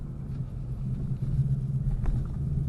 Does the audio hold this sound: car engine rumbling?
yes